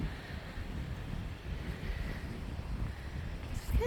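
Wind buffets the microphone at a lake beach on a cool day, a steady low rumbling roar with faint water wash underneath and no voices.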